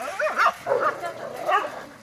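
A few short, close barks and yips come in quick bursts, mixed with whimpery, voice-like sounds.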